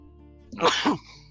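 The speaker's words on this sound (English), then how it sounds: "I'm going to sneeze." A single sneeze bursts out loud and close after a quiet moment, a short sharp two-part blast that fades quickly back to near silence.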